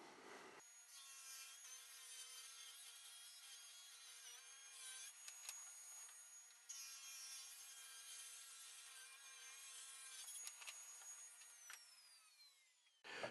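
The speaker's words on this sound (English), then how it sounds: "So let's cut some wood." A sliding miter saw cuts wood strips in a workshop, its motor whining up steadily through a long, fairly quiet pass, then a second cut, before spinning down at the end.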